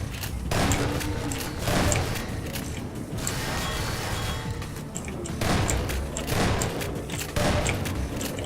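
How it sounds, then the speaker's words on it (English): Repeated gunfire shot through a fence in Half-Life 2: Episode One, loud bursts and thumps recurring every second or two over a constant noisy game background. "Is shooting it through the fence doing anything what I'm currently doing"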